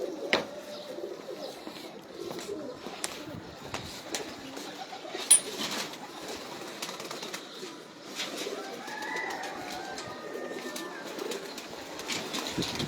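Pigeons coo repeatedly in a loft of prized old-breed birds, a steady soft cooing with occasional rustles and chirps, mid-distance, with no talking.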